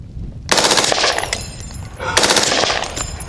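Belt-fed FightLight MCR rifle with a forced reset trigger fires two loud, rapid bursts of shots, each roughly a second and a half long, separated by a brief pause.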